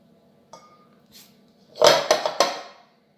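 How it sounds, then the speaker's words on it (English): A mixing bowl of pastry mix is shaken, giving a few faint knocks followed by a cluster of louder clattering clinks of the bowl, close and brief. "So we'll shake the bowl again."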